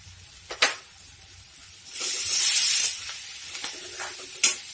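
Mung dal roasts in a pan with chhola masala, a soft sizzle that swells into a louder hissing burst, with scattered clicks and scrapes of stirring.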